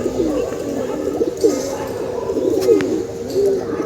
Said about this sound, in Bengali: বেশ কিছু কবুতর গোসল করছে